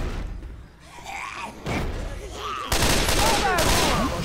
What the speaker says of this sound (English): Shotgun for the win.